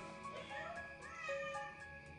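A spotted cat meows softly, a few drawn-out, rising and falling cries at a distance, with faint background voices and room noise.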